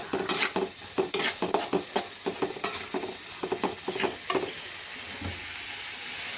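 Meat stirred into a hot pan of browned spices for biryani, a spatula scraping in quick repeated strokes over a steady sizzle, close and fairly loud, fading to a quieter fry near the end.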